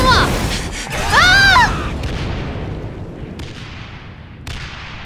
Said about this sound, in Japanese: 逃げろ、爆発するぞ。